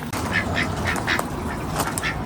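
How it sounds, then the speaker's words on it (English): A duck quacks repeatedly in a spring garden, several short nasal calls spaced through the moment over steady outdoor background noise, fairly close by. "There's the duck out. I knew he was going to attack us."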